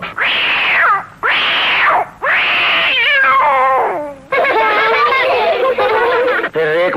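A kitten meows in a quick series of loud, drawn-out calls, the first three long and separated by short pauses, then rising into continuous chattering mews near the microphone.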